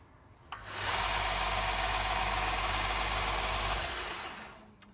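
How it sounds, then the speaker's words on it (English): Belt sander running a 100 grit belt while sharpening a lawn mower blade: a steady, loud broadband grinding roar with low motor hum that starts abruptly, holds for about three seconds, then winds down. "Obviously we're using a sander"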